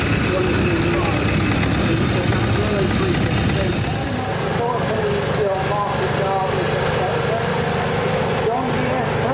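A mid-1970s 95 horsepower John Deere 3130 tractor runs at a steady, continuous drone at an outdoor tractor rally, with someone talking over it throughout.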